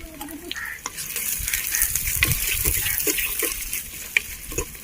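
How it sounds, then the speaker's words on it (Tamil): Onions sautéing in a pan for chicken biryani, with a steady crackling sizzle and repeated scraping stirs of a spoon, close and fairly loud, no talk. "ஸோ இப்போ ஆனியன் ஆட் பண்ணி நல்லா வதக்கிடலாம்."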